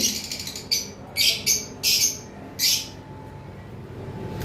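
A pair of lovebirds gives short, shrill chirping calls in several quick bursts, close and fairly loud, separated by brief pauses over a low background hum.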